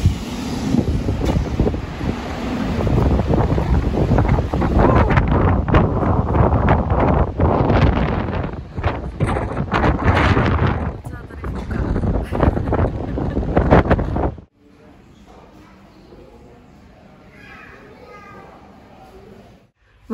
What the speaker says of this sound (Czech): docela tam fouká